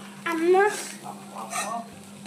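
Egg Maggi noodles are stirred and fried in a pan, a steady close sizzle with scraping stir strokes running throughout, under a voice and a constant low hum.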